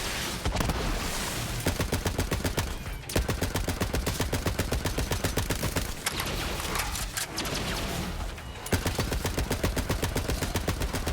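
Rapid automatic gunfire in the Borderlands 3 video game, loud, dense bursts of shots with brief pauses between long streams, close and dominant with no talk over it.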